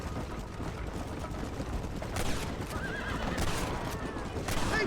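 Horses whinny a few times over a steady clatter of galloping hooves, with a busy, noisy Red Dead Redemption game backdrop throughout.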